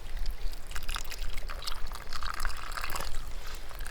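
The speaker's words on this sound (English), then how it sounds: "let's see if we can put some warm water into that" Warm water poured into a lockable camping cup outdoors in the Norwegian mountains, a steady close trickle and splash lasting a few seconds.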